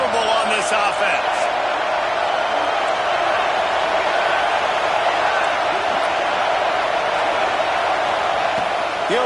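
Dense, steady roar of a stadium crowd at a college football game against Arizona State on a fourth-down play, loud and continuous with no break, a few faint whoops rising out of the din.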